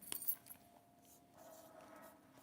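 Pen or pencil writing numbers by hand on paper during a French lesson, a faint, soft scratching heard quietly and close, with a brief louder stroke at the start.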